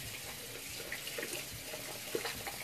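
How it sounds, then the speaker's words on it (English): A bathroom tap runs while hands are rinsed of a black peel-off face mask, a soft, faint hiss of flowing water with small splashes. "I'm going to wash it off of my hands"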